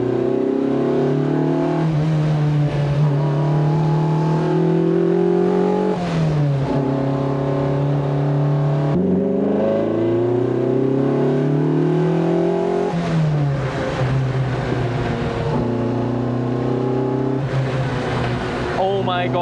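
A Lotus Elise 340R accelerates hard from inside the cabin, its engine note climbing steeply through repeated rising sweeps between gear changes, loud and continuous, with a voice talking over it.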